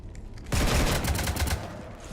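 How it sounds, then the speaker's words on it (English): Sustained burst of rapid gunfire from the Mass Effect 3 video game, a dense crackling volley that starts abruptly and rattles on for over a second before easing, with no voices over it. "You want to stop shooting up my ship?"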